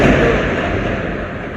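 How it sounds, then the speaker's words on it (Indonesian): Thunder rolls as a loud, dense rumble that starts at full strength and slowly fades over a second and a half, with no voices over it. "ada geledek, istighfar dulu."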